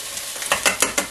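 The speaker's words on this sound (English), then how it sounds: "I'll actually split the onions and the peppers together today. I'm doing it all at once. I'm going to put a little butter in there." Onions and peppers sizzling in butter in a pan sprayed with olive oil, a steady close frying hiss with a few quick stirring scrapes.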